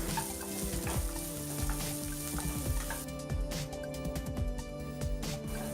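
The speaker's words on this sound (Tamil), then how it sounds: "வெங்காயத்தை நல்லா வதக்கிக்கலாம்." Chopped onions sauté in a pan for banana flower poriyal with a steady close sizzle and occasional stirring scrapes. Tonal background music plays throughout.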